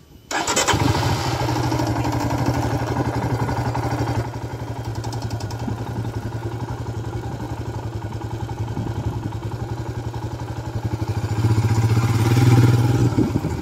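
Royal Enfield Himalayan motorcycle engine near a hanging bridge at Shivapura, catching on start and then settling into a steady, close, thumping idle that swells louder near the end.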